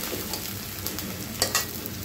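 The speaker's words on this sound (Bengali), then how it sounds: "পেঁয়াজটাকে একটু ব্রাউন কালার করে নিব" Onions frying in a pan until brown, a soft steady sizzle with a few faint stirring scrapes near the end, quiet and without talk.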